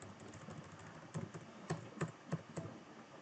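A handful of separate keypresses on a computer keyboard as shortcuts are entered, giving sharp, close clicks spaced about a third of a second apart over a quiet background.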